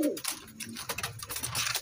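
A male green Madras pigeon gives soft, low coos, faint against a busy backdrop of clattering, rustling noise nearby.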